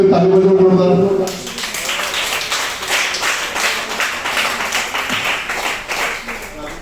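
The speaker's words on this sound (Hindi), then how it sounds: "ऊपर वरती आए वाले लेडीज के लिए ताली बजाओ जोरदार" Loud, dense applause from a crowd clapping for a group of women, a steady wash of hand claps sustained for several seconds after a brief burst of speech at the start.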